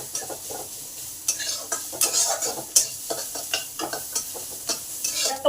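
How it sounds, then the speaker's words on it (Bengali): Chopped onions sizzle in a hot pan with salt while a utensil stirs and scrapes them in irregular bursts, close and clear, with no talking, as the base for a South Indian-style potato masala. "পেঁয়াজটা ভাজা ভাজা হয়ে এসেছে"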